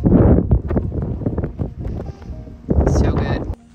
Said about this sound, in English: It's getting windy out, guys.